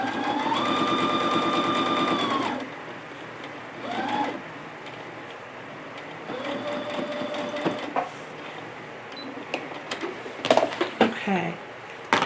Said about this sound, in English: I'm going to stitch off of that, remove my project, and flip it over, and then I'm going to baste from the top to the bottom.